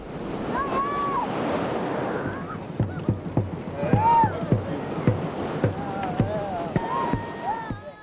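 Ocean waves surge and wash steadily against a shoreline where mourners immerse themselves during a ritual goat sacrifice, with wind noise and a narrator's voice over the surf.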